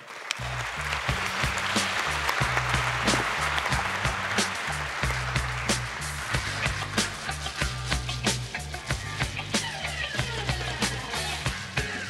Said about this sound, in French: vont me rejoindre sous vos applaudissements.